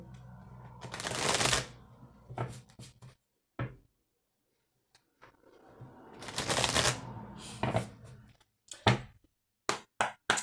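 Oracle cards shuffled by hand for a mirror oracle reading, two long riffling bursts separated by short taps and pauses, close and fairly loud with no talking.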